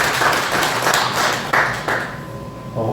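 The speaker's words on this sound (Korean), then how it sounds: "우리 환영하는 마음 박수를" A church congregation claps in welcome during a Christmas service, a short burst of loud clapping that cuts off partway through.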